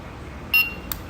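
An M521 doorbell receiver gives two short, high electronic beeps about a third of a second apart as its ringtone-choose and setting keys are pressed together, clear against a quiet room.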